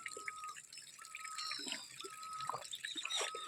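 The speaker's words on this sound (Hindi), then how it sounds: "इसलिए यहाँ ठंडा ही पानी निकलता है" Cold spring water flowing out in a hillside village among oak trees, a close trickling, dripping stream with small splashes and bubbling, steady and fairly quiet, with no talking.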